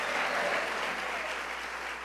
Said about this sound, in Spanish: Dale ese aplauso a la gloria de Dios.